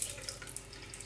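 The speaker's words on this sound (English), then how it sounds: "So we're just pouring it straight in" Liquid poured straight into a blender for banana protein ice cream, a soft continuous splashing trickle, faint and close, lasting about a second with no talk.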